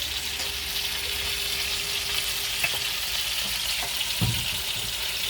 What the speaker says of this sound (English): we're going to go ahead and let these Brussels sprouts simmer in this